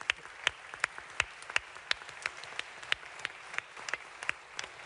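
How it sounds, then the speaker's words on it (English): An audience at a London climate event claps in a short burst of applause, the individual claps sharp and distinct but fairly sparse, heard from a moderate distance. "a very well-deserved round of applause"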